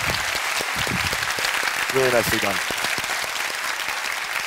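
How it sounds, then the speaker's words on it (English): A concert or lecture audience applauds steadily after a musical arrangement of Mozart's Requiem is praised, with someone speaking briefly over the clapping. "please give him another round of applause"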